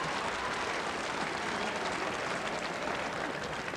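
A comedy show audience breaks into applause, a dense, steady wash of many hands clapping throughout, filling the room at a constant level.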